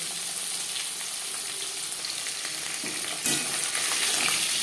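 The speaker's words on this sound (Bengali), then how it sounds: "মাছ আমি হালকা করে ভেজে নেব" Hilsa fish pieces lightly frying in a little oil in a pan, a soft, even sizzle with a brief louder crackle near the end and no voices.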